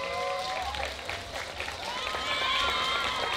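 A crowd claps and cheers outdoors at a spring flower festival dance contest, the applause steady throughout, mixed with voices and some tonal music in the background.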